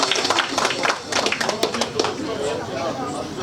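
Audience at a concert event applauding a singer, dense clapping with some crowd chatter and voices, fading toward the end.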